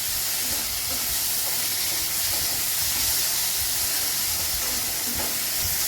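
Onion and tomato sauté in oil over a gas flame, giving a loud, steady frying hiss with a faint low rumble beneath it and no voices.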